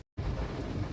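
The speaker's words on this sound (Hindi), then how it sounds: "तो इतना बड़ा बरसात हो रहा है" Heavy rain pours steadily on a roadside, a dense continuous roar that starts abruptly after a short silence, with a low rumble beneath that could be thunder.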